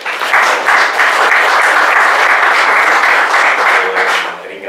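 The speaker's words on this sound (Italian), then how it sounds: "intanto facciamo un applauso" An audience applauds at an open-day event for a European funding master's programme, dense continuous clapping, loud and near, fading out near the end.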